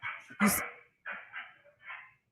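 Dogs bark several times in a loud burst at close range, followed by quieter rustling and muffled sounds; no talk is heard.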